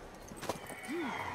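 A horse in The Witcher 3 gives a faint, brief neigh with a few soft hoof clops, heard at a distance in a quiet game scene.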